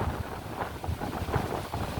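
Steady gusting wind in Singapore buffets the microphone with a low, rumbling roar that rises and falls throughout, with no voices.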